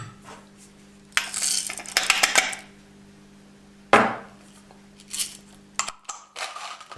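A Comandante C40 hand coffee grinder is cranked, giving bursts of rattling, crunching burr grind in short spells with pauses, close up over a low steady hum.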